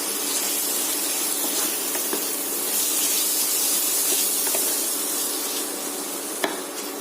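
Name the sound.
prawns stirred and lightly fried in a pan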